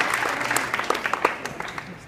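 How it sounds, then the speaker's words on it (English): A room of people applauds at a high school signing day for crew rowers, with scattered, uneven claps at moderate volume, a few sharper claps standing out near the middle. "a big round of applause for the families"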